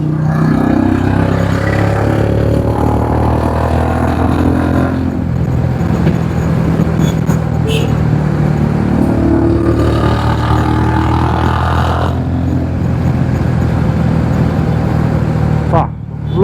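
A motorcycle with an aftermarket exhaust revs loudly and steadily close by, its engine note rising and falling in long swells with brief lulls.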